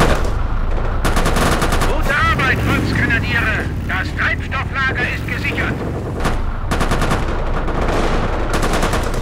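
Heavy gunfire in the Company of Heroes modern combat strategy game, with dense machine-gun and rifle bursts over rumbling battle noise, loud and continuous, while people talk throughout.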